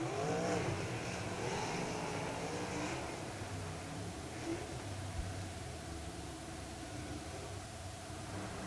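Traditional sprint race cars run at Millstream Speedway: a distant, fairly faint engine roar with a brief rising sweep early on, then a steady hum blended into broad track noise.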